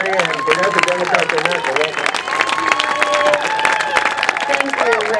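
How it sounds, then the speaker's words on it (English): Rally crowd applause at an outdoor anti-nuclear San Onofre rally marking Fukushima, loud sustained clapping mixed with cheering and crowd chatter, with voices and tonal sounds layered over it. "So let's give a round of applause to Mimi Kennedy from the Hollywood area and Vanessa Democrat."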